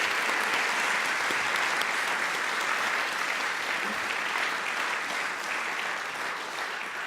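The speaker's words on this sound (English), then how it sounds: "let's give Charles and Terry a big round of applause." Audience applause at a Founder's Day conversation event, a steady wash of many hands clapping, fairly distant and even, slowly tapering toward the end.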